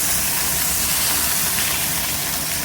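Carrots searing in a hot pan alongside a lamb dish, giving a steady, loud broadband hiss and sizzle that runs unbroken throughout with no talking.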